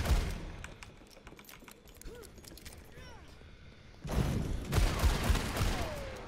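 Rapid bursts of gunfire in Overwatch 2 aimed at a barrel, with a sparse opening giving way to a loud, dense volley in the last two seconds, mixed with voices talking.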